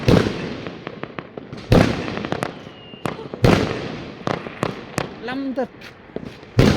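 Fireworks on Chinese New Year's Eve burst in loud, sharp bangs scattered through the air, some near and some farther off, with crackling and a whistling rocket, while people talk and exclaim between the blasts.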